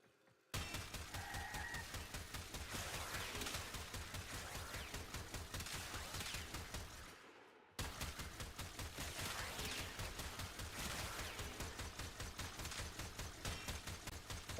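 Rapid automatic gunfire from a video game shooter, a steady fast stream of close, loud shots lasting several seconds, a brief pause, then another long continuous burst, with no talking.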